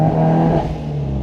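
Engine of a Subaru Impreza S203 replica held on launch control, a loud, steady rev close by with a strong low drone that dips slightly partway through, then holds.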